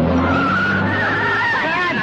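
A car pulls away with its tires skidding and squealing, loud and close, the engine noise rising over about two seconds while voices shout nearby.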